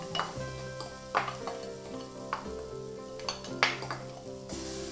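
Papaya pulp being stirred into kesari in a pan, a spoon scraping and clinking against the metal in irregular strokes over a soft sizzle, close and moderately quiet.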